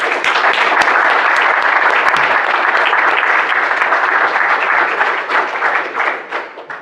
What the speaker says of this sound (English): So big applause for Sean McDermott.